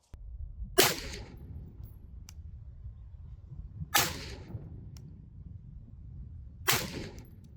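Three sharp, loud reports spaced a few seconds apart, each with a brief decaying tail over steady low background noise, from a rifle firing Mark 262 ammunition at an outdoor range.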